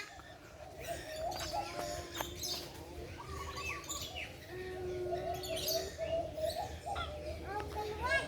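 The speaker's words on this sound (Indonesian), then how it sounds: "burung cakep banget tuh." Birds at an aviary in a city bird park, with soft pigeon-like cooing and scattered chirps over steady outdoor background noise, while children and adults chatter nearby.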